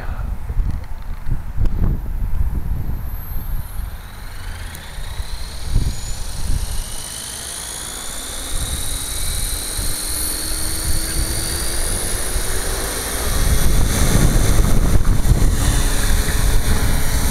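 A Gaui RC model helicopter whirs aloft with a rising and falling rotor whine, wind buffeting the microphone and growing louder toward the end.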